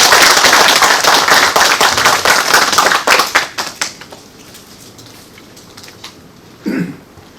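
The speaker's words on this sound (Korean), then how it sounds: "모두 큰 박수로 환영해 주시기 바랍니다." Audience applause welcoming a lecturer at a Korean presidential history archive lecture hall, loud dense clapping for about three seconds that thins into scattered claps and fades to quiet, with a brief murmur near the end.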